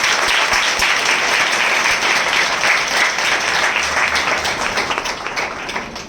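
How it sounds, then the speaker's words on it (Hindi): A church congregation at a spiritual assembly breaks into loud, sustained applause to welcome listeners, a thick wash of many hands clapping that eases slightly toward the end. "हम जोरदार ताली से उनका स्वागत करें"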